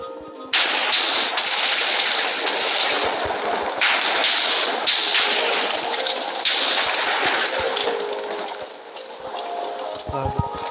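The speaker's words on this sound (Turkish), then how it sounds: "Creeper'lar da patlıyor." Repeated explosions from creepers blowing up in a Minecraft game, a dense run of loud booming bursts that keeps going through the whole stretch with barely a pause.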